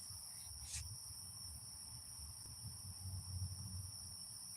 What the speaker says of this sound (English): It's the lightning crickets.